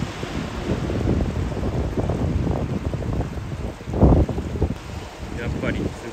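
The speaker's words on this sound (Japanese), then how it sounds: "やっぱりすごい波がありますね。" Strong ocean waves crash on an earthquake-damaged Japanese coast while gusting wind buffets the microphone. There is a continuous rough roar with a heavier surge around the middle.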